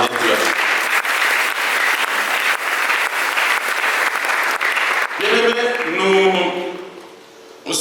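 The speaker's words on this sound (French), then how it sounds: "Est-ce que nous pouvons acclamer pour la gloire de Dieu?" A church congregation applauds loudly and continuously for several seconds, then the clapping fades out while voices and cheers rise near the end.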